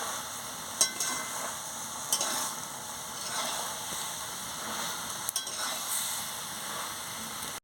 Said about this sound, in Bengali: আমি ভালো করে এই আনাজটাকে কীরকম কষাচ্ছি দেখুন